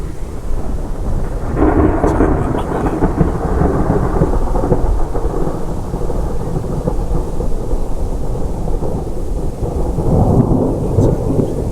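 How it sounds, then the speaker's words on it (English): Heavy rain pours steadily while deep thunder rumbles and rolls, swelling loud near the start and again toward the end. "I like a good thunderstorm, but I have to shut my window now because the rain's coming"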